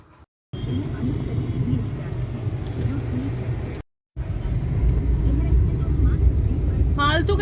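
A traffic jam at Hero Honda Chowk, with buses and auto-rickshaws, gives a steady, dense rumble of idling and crawling engines close by, broken by two brief gaps, with voices mixed in.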